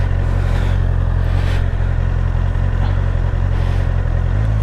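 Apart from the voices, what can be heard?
Honda CBR650R motorcycle pulling away using E-clutch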